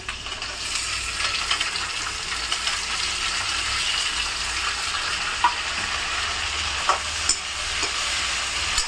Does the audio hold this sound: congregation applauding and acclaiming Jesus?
no